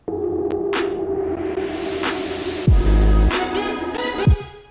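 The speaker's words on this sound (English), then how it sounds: "this is some white noise rising up" A white noise riser sweeps steadily upward in pitch over a few seconds within a hip hop production session, sitting on a bed of looped synth and bass tones, followed by a loud booming hit and further thumps.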